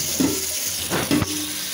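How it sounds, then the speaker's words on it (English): Tap water runs steadily into a sink while spinach is rinsed, with brief splashes and rustles heard close up. "The first you do is get your spinach and rinse it real well."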